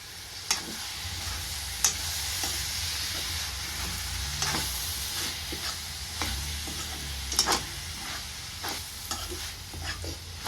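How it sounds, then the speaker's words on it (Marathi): Cooked vajdi (goat tripe) sizzles steadily in a hot pan while being mixed, a continuous close fry hiss punctuated by regular spatula scrapes and taps, with no talking. "छान असं मिक्स करून घेतो"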